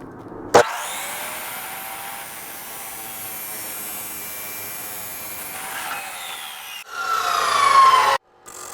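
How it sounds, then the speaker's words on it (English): Saw cutting a short metal rod held in pliers, a steady, high, whining cut lasting several seconds, then a louder, harsher burst before it stops abruptly. "We're gonna hold it with some pliers and chop it with this saw here."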